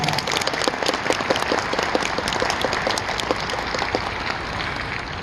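Audience applause for a children's choir at a Pyeongchang Winter Olympics anniversary fashion culture festival: steady, dense clapping from a large crowd, loud and sustained throughout.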